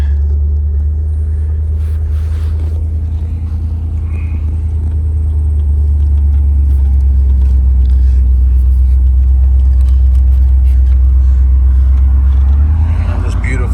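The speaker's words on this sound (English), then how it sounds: "Let's turn this car around and go for a little ride." A 1989 Chevrolet IROC on the move, its engine giving a steady, loud low rumble that holds throughout and rises slightly near the end, with some voice faintly under it.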